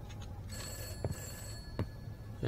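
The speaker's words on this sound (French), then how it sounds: "téléphone qui sonne." An old telephone bell rings in the video game Summer 58, a metallic trill starting midway, steady and fairly near, broken by a few soft thumps like footsteps.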